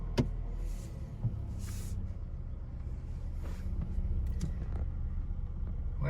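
A 2021 Ford Bronco fitted with a Bestop TrekTop soft top rolls along with a low, steady cabin rumble, a few soft knocks and faint rattles breaking through the drone.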